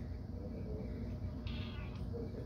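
A house cat gives one short, faint meow midway, heard close by over a low, steady indoor hum.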